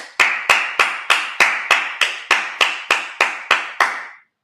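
One person claps in a steady rhythm at a church Sabbath service, about a dozen sharp, evenly spaced claps, close and alone.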